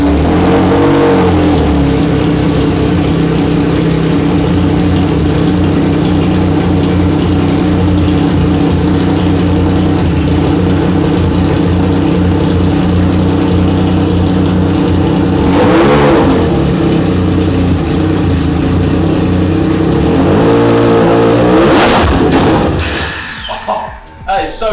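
A 400 bhp custom drift motorcycle engine revs loudly and close, rising and falling through several throttle blips over a steady, rough idle before cutting off at the end.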